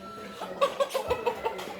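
Chickens give a quick run of short, clipped clucks in a steady series, close and fairly quiet, with soft background noise around them.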